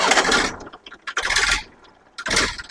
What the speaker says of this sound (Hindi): तो चलिए ट्रैक्टर हम आपको बिना देरी करते हुए स्टार्ट करके दिखाते हैं